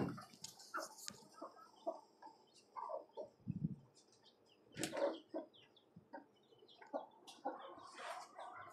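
A broody domestic country hen sits on a clutch of six eggs, giving soft, irregular clucks and low grumbling calls close by, with a few sharper squawks and brief rustles of feathers in a quiet farm setting.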